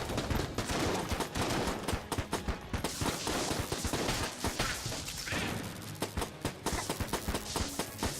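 Rapid volleys of gunfire from the bullet-hell game Enter the Gungeon crackle almost nonstop, dense and loud, with a few brief lulls and crashing hits mixed in.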